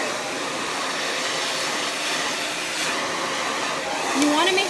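A hair dryer roars steadily and close while blow-drying frizzy, curly hair for a voluminous straight blowout, its broad airy whoosh constant throughout, with a faint brief whistle near the end.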